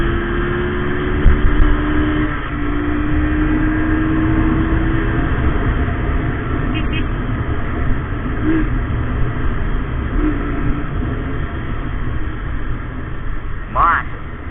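Honda CG Fan 125 motorcycle engine hums steadily while riding, a constant mid-pitched drone with wind rumble throughout, with someone talking over it.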